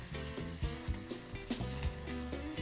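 Butter and hot sauce being stirred together in a pot for Louisiana-style buffalo sauce, a steady hiss of sizzling with repeated spoon scrapes and knocks against the pot, close and continuous.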